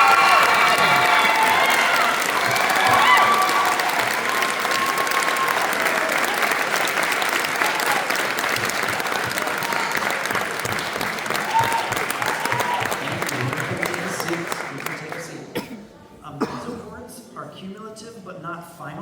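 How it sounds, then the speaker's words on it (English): Sustained audience applause mixed with some cheering honors band letter award recipients at a high school senior band awards night, loud and steady before fading and breaking up near the end with a few scattered claps and voices. "Let's give them a round of applause."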